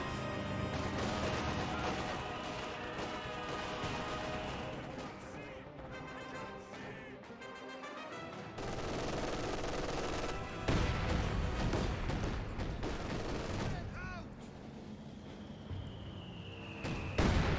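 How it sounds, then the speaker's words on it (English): Explosions and crashes from a Company of Heroes 2 battle, with mortar shells landing on a victory point amid steady combat noise; several loud booms and impacts follow one another through the scene. "Mortars hitting the VP."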